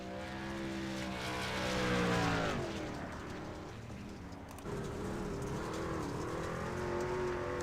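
Number 38 Chevy Silverado race truck at an ARCS Saturday night showdown in Knoxville, its engine a loud continuous roar with rising and falling pitch as it works through the gears, swelling near the two-second mark and dipping briefly before pulling hard again.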